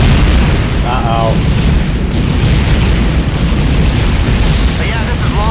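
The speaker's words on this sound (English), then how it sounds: "There's been some kind of explosion." A space explosion in the video game Tachyon: The Fringe, heard as a loud, continuous, roaring rumble that fills the whole stretch, with brief tonal blips and radio-like chatter riding on top.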